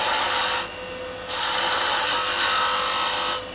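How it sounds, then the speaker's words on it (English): Wood lathe taking quick peeling cuts on a hollow form jam chuck, a loud, steady rasping scrape of the gouge that breaks off briefly twice as the tool lifts away. "So let's go in and we'll just do some peeling cuts."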